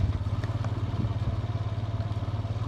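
A four-wheeler quad bike engine runs at steady idle with a close, pulsing low throb, a little clatter on top and no voices.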